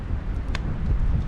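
Strong wind gusting across Saranac Lake in the Adirondacks, a steady loud roar with crackling buffeting against the microphone and no break in the noise.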